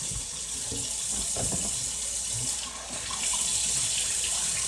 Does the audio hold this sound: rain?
no